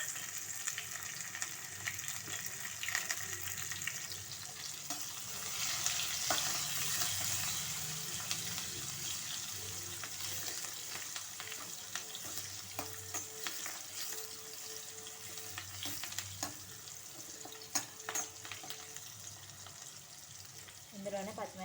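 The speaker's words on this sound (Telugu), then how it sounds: "ఇప్పుడైతే నేను వచ్చేసి ఒక ఉల్లిపాయ సన్నది తీసుకొని వేయించేసుకోవాలి" Thinly sliced onion frying in a pan with a steady, fairly quiet sizzle and crackle, occasional stirring clinks and scrapes throughout, with no one speaking.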